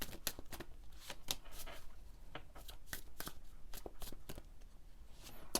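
Tarot cards riffled and shuffled by hand at close range, a rapid irregular series of crisp flicks and slaps, with no talking.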